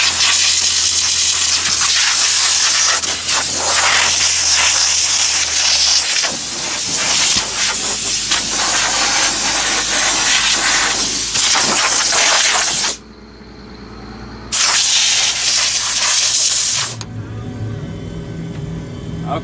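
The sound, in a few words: compressed air blowing out combine air and cab filters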